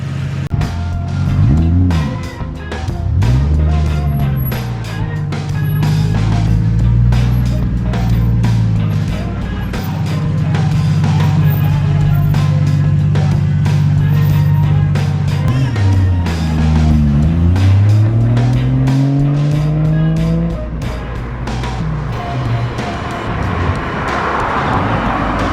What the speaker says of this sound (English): we're taking the Supra for a drive and see how it's going to act in the street.